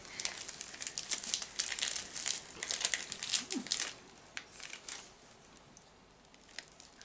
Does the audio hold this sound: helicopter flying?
no